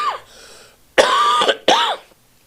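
A man clears his throat and coughs in a quiet room, two loud, harsh bursts close to the microphone after a softer rasp.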